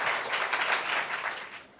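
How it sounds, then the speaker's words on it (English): An audience in a school quiz hall applauds loudly with dense, steady clapping that slowly fades toward the end. "A round of applause for them, please."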